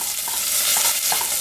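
Cumin seeds crackle and sizzle in hot oil at close range, a brief dense frying hiss with a few small pops and no voices.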